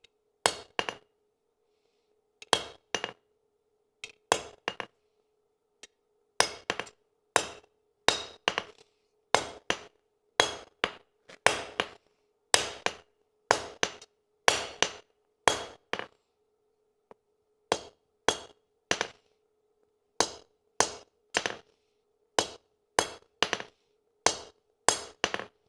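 A hammer strikes a hot railroad spike on an anvil during forging, delivering dozens of loud, ringing metallic blows in quick rhythmic bursts separated by short pauses, close and clear.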